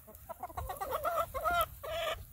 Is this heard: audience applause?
no